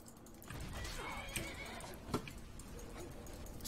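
A horse in the Skyrim video game neighs and whinnies amid clopping hooves and scattered combat noises, fairly close and without speech.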